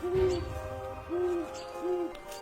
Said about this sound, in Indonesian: yang disebut hooting.